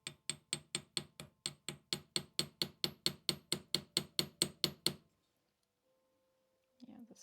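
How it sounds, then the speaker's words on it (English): A very small, fancy hammer taps steadily about sixteen times in an even rhythm, each strike crisp, bright and close, before the sound stops. A short rustle follows at the end. "let me try this with a hammer first."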